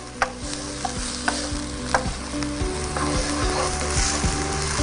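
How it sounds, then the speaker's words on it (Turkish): Onions sizzling and caramelizing in a pan while being stirred, a steady bright frying hiss broken by occasional scrapes and taps of the utensil, with no talking. "Ya iyicene bu soğan böyle karamelize olsun. O sarı rengini alsın."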